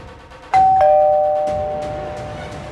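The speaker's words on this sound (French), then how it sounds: "la sonnette de la porte sonne" A doorbell in a television drama gives a clear two-tone ding-dong, loud and close, then its ring fades slowly into the quiet that follows.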